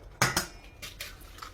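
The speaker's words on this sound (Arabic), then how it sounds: "نكسر البيض، هاي ليك 5 حبات بيض" Eggs are cracked into a bowl for a chicken and cheese tajine: two sharp, close knocks come first, then several softer taps and clicks follow at an uneven pace.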